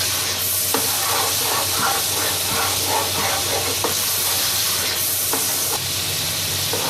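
Ginger garlic paste frying in a pan for kofta curry gives a dense, loud, continuous sizzle and hiss, with a spoon scraping and stirring now and then throughout, no voices.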